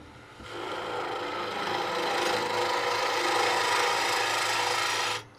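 A spindle gouge cuts cherry wood spinning on a lathe while a lidded box is being turned, giving a steady, continuous close rasping and shaving sound that lasts about five seconds and then stops.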